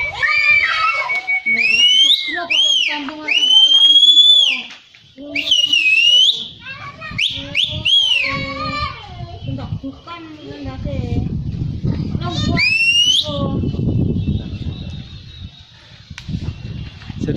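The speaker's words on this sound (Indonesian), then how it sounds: "Jadi ini harus di siul, kalau enggak di siul enggak tinggi nanti." A person flying a kite outdoors whistles loudly, with repeated rising and falling melodic notes, then fainter whistles over rougher background noise.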